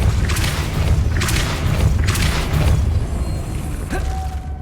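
Depulso force spell cast in Hogwarts Legacy gameplay, three heavy booming bursts at even intervals followed by a short mechanical thud and a fading tone, with no talk.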